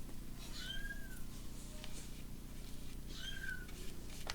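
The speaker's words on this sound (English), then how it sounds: "I don't know if you can hear Kitty Cat." A house cat meows twice, two drawn-out rising and falling calls spaced a few seconds apart, moderately close over a faint steady room hiss in an indoor craft setting.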